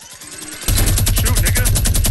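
Minigun fire in the Fortnite video game, kicking in suddenly after a short lead-in of other shots, then roaring as one loud, continuous rapid stream of rounds up close.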